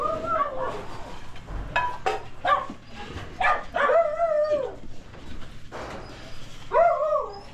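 Coon hunting dogs bark and howl at night in drawn-out, wavering bursts, some rising into yips and whimpers, fairly close and repeated throughout with no talk over them.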